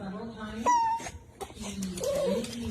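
A distressed dog whimpers and whines in repeated rising, high-pitched cries, close and fairly loud, with a person talking underneath.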